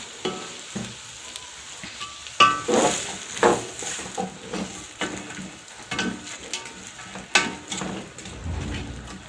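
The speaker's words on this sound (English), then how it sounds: "Stir it very well." Vegetable rice being stirred in a single pot, a spoon scraping and clinking through sizzling grains in uneven strokes, close and moderately loud over a soft steady frying crackle.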